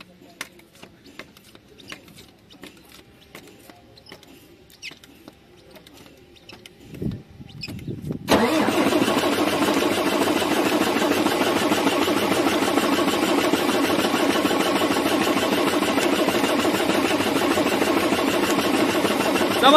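MAN TGA truck diesel engine with a low-pressure fuel starting problem, quiet ticking and a short cranking burst before it catches at about eight seconds, then runs at a loud steady idle to the end.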